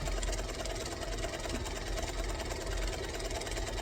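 A sewing machine runs continuously, stitching along a fabric edge while making a bag, producing a steady, close mechanical whir and hum with no breaks.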